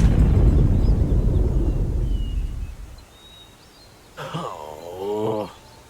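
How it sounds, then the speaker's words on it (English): Explosion in the video game Loco Motive that stops a train, a heavy booming rumble that swells loud then decays over a few seconds, followed by a short creaking, groaning effect. "That was quite the explosion."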